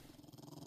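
A dog growling in the video game 7 Days to Die, a low, faint, pulsing rumble held throughout the short moment with no voices.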